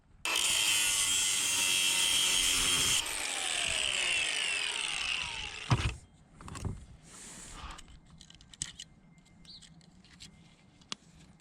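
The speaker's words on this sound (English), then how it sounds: "I'm gonna cut the snap ring on this clutch pack here" A power cutting tool grinds loudly and steadily through a snap ring on a transmission clutch pack for about six seconds, then stops, leaving faint scattered clicks and handling noises.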